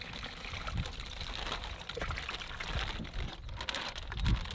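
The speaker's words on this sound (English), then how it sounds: "So there, I just put that much water in, wait a couple minutes." Water poured into a container holding largemouth bass beside a backyard pond, a steady close trickle and splash lasting several seconds with a few brief louder splashes.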